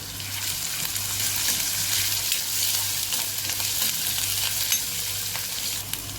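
Crushed garlic and grated ginger sauté over medium heat in a pan, a steady loud sizzle with occasional stirring scrapes, close up and continuous with no voices.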